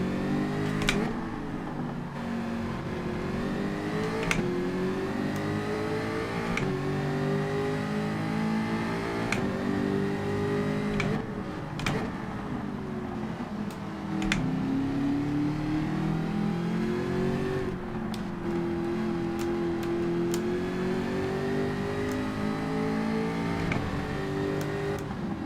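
Group 4 race car engine in Gran Turismo 7 on Grand Valley Highway 1, revving and shifting continuously for the whole stretch, pitch rising and falling through gear changes with steady loud drone and no talk over it.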